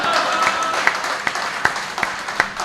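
Audience applause at a Hindi comedy show, a soft broad wash of clapping broken by a few sharp, louder individual claps spaced through the stretch.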